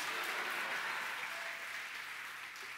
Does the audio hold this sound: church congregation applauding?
yes